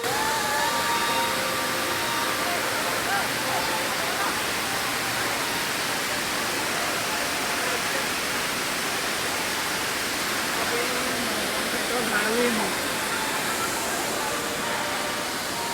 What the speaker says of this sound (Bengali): তোপচাচি লেকের লকগেট থেকে জল গড়িয়ে পড়ছে